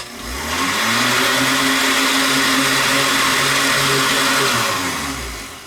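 A blender whirs up protein powder into a shake, spinning up quickly and holding a loud, steady motor drone for about five seconds before winding down.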